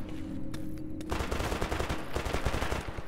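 Gunfire in the video game STALKER Anomaly: dense, loud bursts of rapid automatic shots that run almost without pause and build into a continuous fusillade, with no voices.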